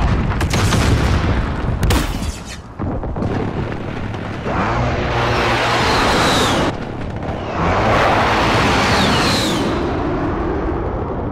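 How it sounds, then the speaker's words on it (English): Precision airstrike in Call of Duty Modern Warfare: loud, heavy explosions come back to back, with booming blasts that swell into long rumbling roars, repeating in waves close by. "Friendly precision airstrike inbound."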